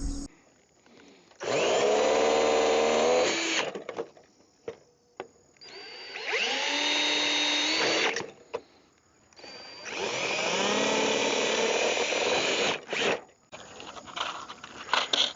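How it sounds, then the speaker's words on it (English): Pop rivets being set into splice washers on gutter ends with a power riveting tool, three long whirring bursts of a few seconds each separated by short pauses and small clicks, close and loud. "I want to quickly get the pop rivets in."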